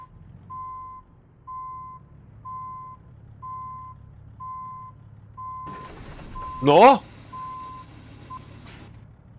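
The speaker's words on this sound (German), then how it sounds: "Das piepst aber jetzt laut." A truck on an American highway trip sounds its reversing alarm, a string of evenly spaced single beeps, before a rush of engine and air noise rises and a voice briefly mutters over it.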